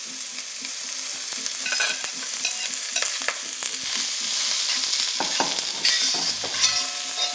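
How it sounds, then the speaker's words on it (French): Sliced carrots and onions fry steadily in a pan for pork shank over lowered heat, a continuous close sizzle with scattered crackles and a few soft stirring scrapes, no voices. "Je vais ajouter dedans ma garniture de carottes et d'oignons."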